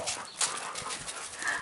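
A pet dog named Ruby plays a keep-away game, giving quick panting breaths and faint whimpers in a short burst, close by in an indoor setting.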